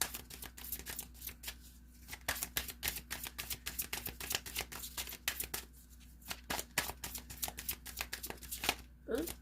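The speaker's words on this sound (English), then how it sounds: "I kind of want to pull one more card from my personal deck, Journey of the Empress Oracle, real quick." Oracle card deck being shuffled, rapid repeated riffling flutters throughout, close and fairly quiet, with a low steady hum underneath and a soft voice barely present.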